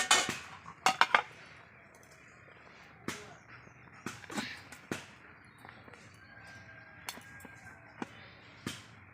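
A pot of cooked rice lifted off a stove, giving a few sharp metallic clinks and knocks of pot and utensils spread through a quiet kitchen, with a voice talking briefly.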